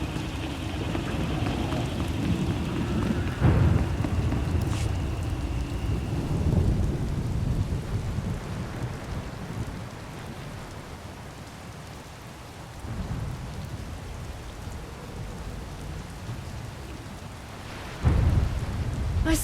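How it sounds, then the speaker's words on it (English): Steady heavy rain with rolling thunder in a storm scene from Star Wars: The Old Republic, a continuous downpour broken by several loud, deep thunder cracks and rumbles, no voices. "Hard to track them through the storm. Rain's wiped out the trail."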